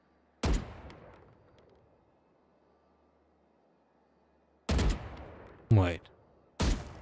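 Gunshots from a Valorant weapon, a single loud crack followed after a long pause by three more sharp shots in quick succession, each ringing out close and punchy over a quiet background.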